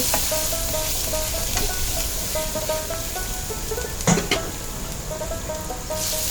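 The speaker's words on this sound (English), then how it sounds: "Then you put some ginger paste and fry." Ginger paste frying in hot oil for Bengali chholar dal, giving a steady close sizzle that runs throughout, with a brief stirring clatter partway through.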